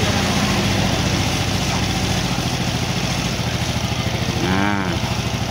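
Fuel-injected motorcycle engine idling close by, a steady, even low thrum with a regular pulsing rhythm, loud and continuous, with a brief higher warbling tone near the end.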